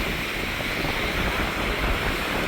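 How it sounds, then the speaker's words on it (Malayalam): Strong wind and breaking sea waves on a Lakshadweep island shore, a steady loud broadband roar with no pauses and no voices. "ഇവിടെ വന്നപ്പോൾ സൂപ്പർ കാറ്റ്"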